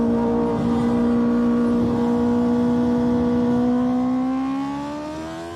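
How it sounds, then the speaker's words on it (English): Motorcycle engine during a chase holding a loud steady drone, then the pitch climbs as it accelerates and the level drops off toward the end, with no voices. "Why would you upshift 2 gears at once? He went from 4 to 6, it sounded like."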